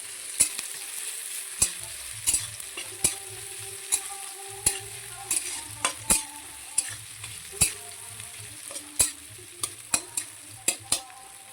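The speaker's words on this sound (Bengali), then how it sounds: "তো আমাদের পেঁয়াজটা ভাজা হয়ে যাবে লাল লাল করে" Onions frying in oil in a home kitchen before meat goes in: a quiet, low sizzle with sharp pops and spatters landing at irregular moments, under a faint steady hum.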